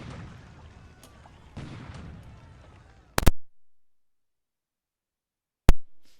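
A naval bombardment in the War in the Pacific strategy game lands as two sharp, loud blasts a couple of seconds apart, each with a short decay into silence, after a stretch of low rumbling background.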